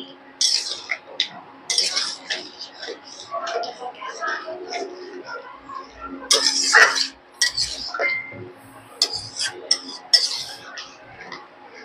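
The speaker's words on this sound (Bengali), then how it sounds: "এবার ভালো করে একটু নাড়াচাড়া করে নেবো।" A spoon clinks and scrapes against a pan while potato curry with shrimp and poppy-seed paste is stirred, giving uneven bursts of clatter with a voice murmuring in the background.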